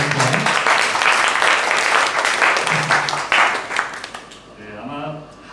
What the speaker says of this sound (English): So give a big applause for the worship team one time.